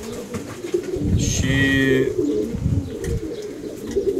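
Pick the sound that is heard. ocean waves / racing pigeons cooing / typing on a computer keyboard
racing pigeons cooing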